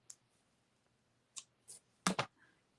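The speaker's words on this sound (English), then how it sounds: "Let me grab my ribbon scissors and give that a snip." Ribbon scissors snip during papercraft, a few sharp clicks and cuts spaced apart and ending in a quick double snip, close and crisp in a quiet room.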